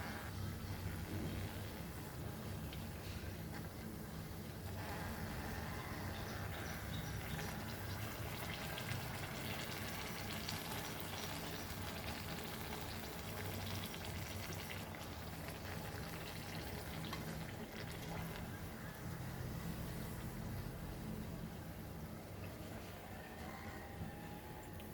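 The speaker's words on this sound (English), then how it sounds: "So I will fry the other ones also." Goan banana buns fry in hot oil, giving a steady, dense sizzle and bubbling that runs unbroken and fairly loud the whole time, with no talking.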